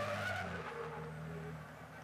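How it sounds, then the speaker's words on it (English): A racing truck drifts through the final corners at Jarama in 2024, its tires squealing and skidding over a loud engine roar in one brief, sustained slide. "Mark Taylor, look, drifting it now around the final couple of corners"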